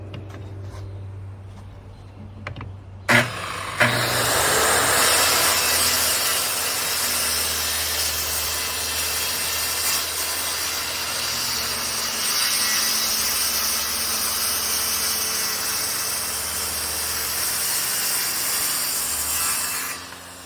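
A DeWalt circular saw fitted with an ultra fine finish blade cuts pallet wood. After a few quiet seconds and a couple of clicks, the saw spins up and whines loud and steady for about sixteen seconds.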